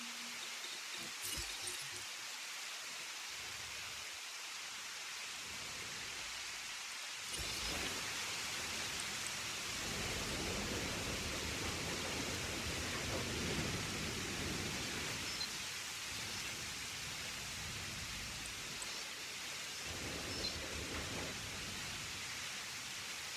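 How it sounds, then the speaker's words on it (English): Steady rain hisses evenly throughout in the video game Jurassic World Evolution, growing a little heavier partway through, with no voices present. "It's raining right now."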